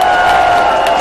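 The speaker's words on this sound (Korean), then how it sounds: "위대한 서울 시민 여러분, 이 홍준표 후보를 뜨거운 박수로 맞아야 되지 않겠습니까?" A large outdoor crowd at a presidential election rally in Sinchon, Seoul, claps and cheers loudly and continuously for a candidate, a close, dense wall of applause and shouts.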